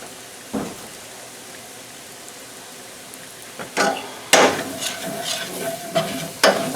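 Flour stirred into melted butter for a roux in a pan, quiet at first, then scraping utensil strokes and a crackling sizzle that grow busier and louder toward the end.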